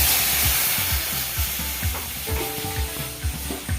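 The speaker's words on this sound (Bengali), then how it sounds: "কড়াইয়ের মধ্যে দুধ দিয়ে দেবো।" Milk sizzling in a hot wok while coconut barfi is being made, with a steady frying hiss and rhythmic scraping as it is stirred, close and moderately loud.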